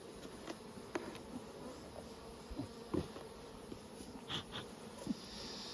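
Honey bees buzz steadily around an open brood box at an apiary in Nymboida, a continuous low hum with occasional closer individual bees passing by, no voices.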